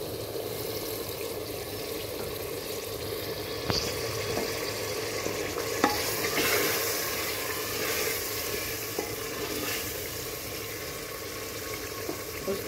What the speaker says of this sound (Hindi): अब अच्छी तरह से हम इसकी भुनाई करेंगे।